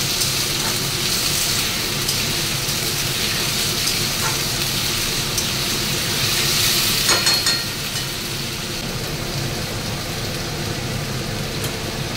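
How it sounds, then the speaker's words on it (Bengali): Diced potato and chopped onion fry in a pan with a continuous, even sizzle, close and steady throughout, with no talking. "আলু আর পেঁয়াজটা একটু ভাজা ভাজা হবে।"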